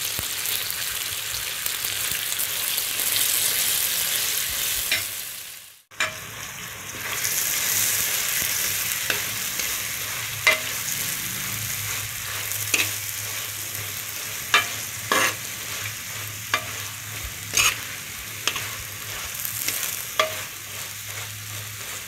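Mint leaves frying in a pan for tomato egg rice are stirred with a steady sizzle and repeated spatula scrapes and clinks, close by, with a brief gap partway through.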